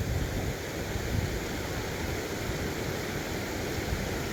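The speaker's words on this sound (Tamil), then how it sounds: "தண்ணியோட சவுண்டு சூப்பராக இருக்கு" Steady rushing water of a stream at Avalanche Lake near Ooty flows continuously, an even broadband wash with no voices.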